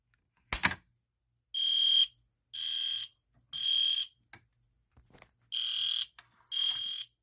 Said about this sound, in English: we're going to go ahead and pull down the fire alarm again and see it's supposed to work